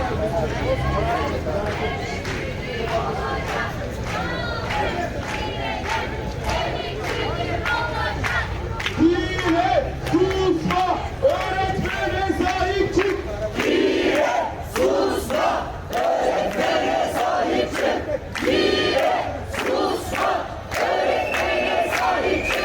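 Teachers on a protest march chant slogans in unison outdoors by a city museum, a loud rhythmic crowd with shouts and some clapping, continuing throughout.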